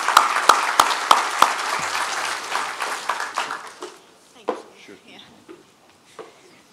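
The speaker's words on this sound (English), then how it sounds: "Let's give them a big round of applause as they come to the stage." Applause from a crowd, starting with a few distinct sharp claps and building into a spread of clapping that thins out and fades.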